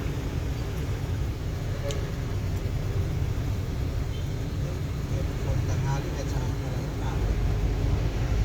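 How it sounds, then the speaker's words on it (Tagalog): Dense, heavy road traffic on EDSA in Cubao, a steady low rumble of many engines filling the whole stretch with no pauses, with voices faintly mixed in. "traffic dito sa Cubao sa EDSA"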